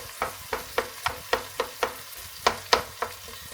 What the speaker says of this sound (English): I just like to break the tomatoes up like so.